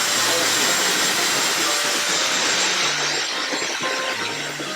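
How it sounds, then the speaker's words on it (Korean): A hair dryer blows with a steady, loud whooshing roar that continues without pause, a few faint tonal whines riding on top. "드라이기를 사용을 해볼 거예요"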